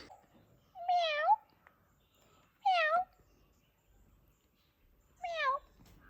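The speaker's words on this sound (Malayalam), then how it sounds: "ഒരു പൂച്ച" A cat meows three times, clear and close, with pauses between each call, on a resort room balcony in an otherwise quiet space.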